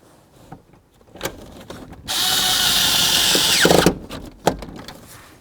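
Power drill driving screws into the steering column of a 1994-2004 Chevy S-10, one loud continuous whirring burst of under two seconds, bracketed by clicks and handling noises.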